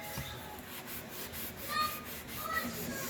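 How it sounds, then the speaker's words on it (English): Steady back-and-forth rasping of sandpaper on a painted wooden surface, close and continuous with a rhythmic scratchy texture. "I'm going to do that by just giving it some sanding here."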